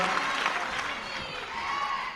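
Dense audience applause in an auditorium, a steady wash of clapping from a large crowd.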